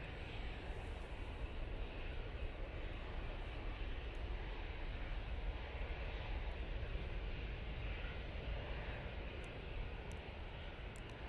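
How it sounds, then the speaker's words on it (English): An Emirates airliner taxiing out at Manchester Airport gives a steady, broad engine roar and rumble from a distance, with gusty wind noise running through it and no talking. "Emirates starting his taxi out."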